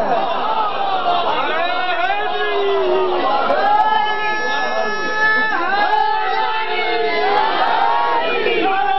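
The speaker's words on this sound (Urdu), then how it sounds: "اس طرح کے نعرے نہ لگاؤ" A crowd at a religious gathering shouts slogans in unison, loud massed voices rising and falling in waves with overlapping calls throughout.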